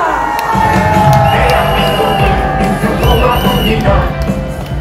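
A crowd cheers at an outdoor candlelight rally, a dense roar of mixed voices with whoops and shouts rising over steady applause, fairly loud and sustained throughout.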